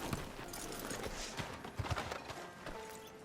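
A horse's hooves clip-clop at a steady trotting rhythm in Red Dead Redemption 2, with a soft mid-distance sound over light ambient game noise and no talking.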